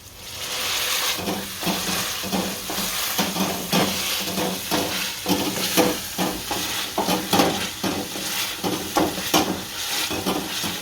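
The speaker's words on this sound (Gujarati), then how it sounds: "ટમેટાને સારી રીતના પીસી નાખશું।" Tomatoes are mashed and stirred in a hot pan, a loud continuous sizzle broken by repeated scraping and pressing strokes in a steady rhythm.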